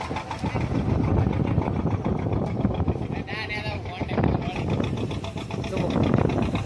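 A big motor boat out at sea drones with a steady low engine rumble and wind buffeting the microphone, while people talk over the noise close by.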